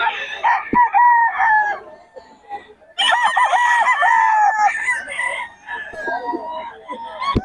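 A Sweater gamecock rooster crows loudly and clucks nearby at a gamefowl farm in Bocaue, in two long bursts with shorter calls, while someone talks now and then.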